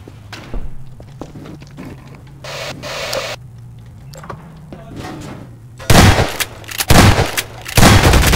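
Several loud gunshots in a Garry's Mod hide-and-seek game, sharp blasts in quick clusters near the end, following quieter clicks, thumps and a steady low hum earlier on.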